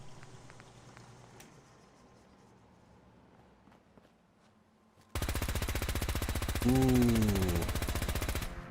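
A P90 firing in Fallout 4, a long loud burst of very rapid automatic fire after quiet footsteps and handling sounds, with a brief exclamation from a voice over the shooting.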